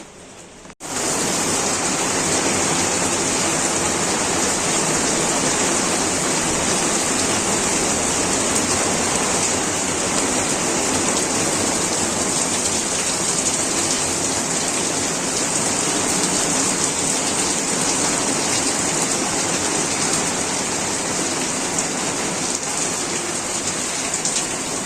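Heavy rain pours down in a dense, unbroken roar that begins abruptly and holds steady for the rest of the stretch, with no voices.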